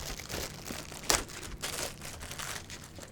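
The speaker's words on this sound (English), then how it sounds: "I know how to open a plastic bag" A plastic bag holding parts of a Kitty Hawk Mirage 2000C scale model aircraft kit is opened close by, with soft crinkling and one sharp tearing snap in the middle, fairly quiet.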